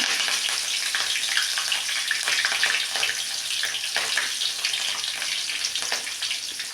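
Green chillies and dried red chillies sizzle and fry in hot oil in a pan, a steady, dense crackling hiss that stays loud and close throughout with no voices.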